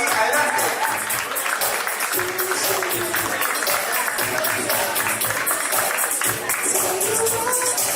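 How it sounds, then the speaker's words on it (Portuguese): Audience applause for an award recipient at a university partner awards ceremony, a steady dense wash of many hands clapping throughout, loud and sustained with voices mixed in. "Fuerte las palmas para Joaquín."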